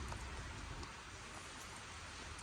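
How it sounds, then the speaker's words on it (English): A dense, steady patter of water drops falling from trees onto leaves and ground after rain has stopped, soft and continuous like light rain, with no talking, in the evening. "now there's just water drops falling off the trees"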